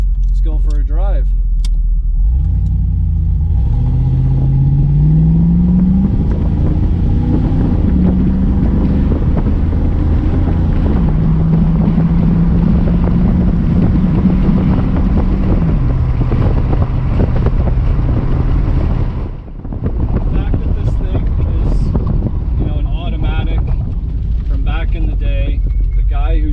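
A Foxbody Ford Mustang pulls away and drives, its engine note climbing through the gears in a loud, steady drone with wind noise, then briefly dropping out before cruising on.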